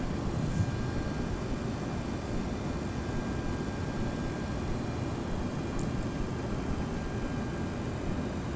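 Steady broadband rush of an MD-80 series airliner, an MD-83, during landing in a flight simulator game, constant and fairly loud with no distinct events, an even roar throughout.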